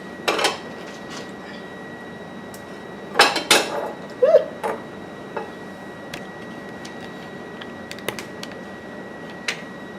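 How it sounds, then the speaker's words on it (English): Utensils and dishes clatter as a cutting board is cleared while pork chops are prepared in a home kitchen: a few sharp clinks and scrapes in brief bursts, fairly close, with quiet gaps between. "Let me clear off this cutting board here."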